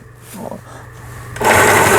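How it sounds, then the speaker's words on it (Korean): A Jaguar mini sewing machine, under repair after a broken needle-bar crank, starts stitching near the end with a sudden loud buzzing whir after quiet handling sounds. "다시 박음질을 해보겠습니다"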